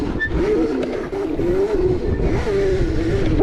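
A 72V electric pit bike rides along with a steady whining motor drone that rises and falls, and the chain slaps and clatters beneath it because its chain guides are out of alignment.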